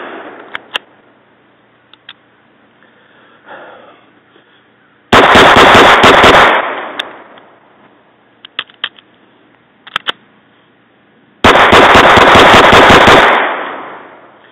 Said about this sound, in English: let's see how it goes for a little bit of rapid fire, shooting right under the target